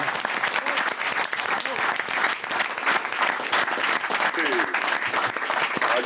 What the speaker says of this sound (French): En tout cas, on t'applaudit, tu nous as tous épatés.